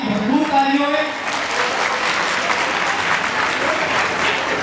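An audience welcomes a singer at a World Teachers Day children's expo in Karachi with loud, sustained applause that builds right after a speaking voice briefly trails off at the start, then holds steady as a dense wash of clapping.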